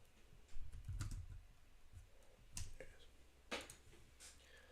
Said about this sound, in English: I should just type in Ben.